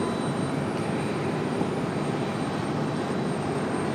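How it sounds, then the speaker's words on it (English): JetBlue jet airliner at Raleigh-Durham International Airport, a steady broadband engine roar that holds evenly loud for the whole stretch with no talk over it. "All right, JetBlue coming up."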